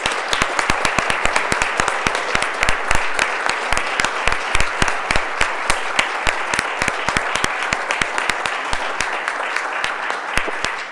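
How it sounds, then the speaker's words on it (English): Audience at a school honors ceremony gives a steady round of applause for the honorees, many individual claps sharply audible over a continuous dense wash, loud and even throughout. "Let's have a final round of applause for all the honorees."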